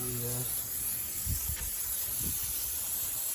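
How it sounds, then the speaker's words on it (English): Continuous bright hiss of an aerosol spray during mechanical work on a Hyundai i40 under a low background hum, with a couple of soft thumps; no voices are heard. "So another quick spray around here."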